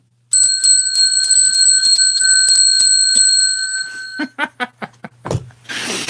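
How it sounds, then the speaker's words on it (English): A bright metallic hand bell rings in a rapid, steady series of strikes, then a few slower, separate dings trail off before a brief rustle. "Let's ring that bell 10 times for 100 thumbs up."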